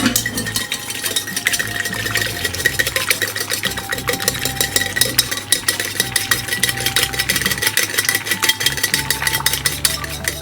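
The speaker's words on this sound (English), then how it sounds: "You just have to whisk till it's thick." Five egg yolks whisked in a bowl for a lemon cake, making a steady, rapid, rhythmic beating that continues for the whole stretch over a constant low hum, with no talking.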